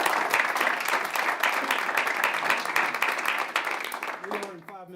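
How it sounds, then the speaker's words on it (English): Sustained applause from a council chamber audience at a city Board of Mayor and Aldermen meeting, dense steady clapping filling the room and tapering off near the end as a voice begins. "I'd suggest a round of applause for everybody involved"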